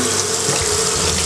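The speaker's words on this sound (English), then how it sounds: "Now we gotta rinse it all out." Tap water runs steadily into a bathroom sink to rinse out spilled beer, a continuous close, loud splashing stream with no talk.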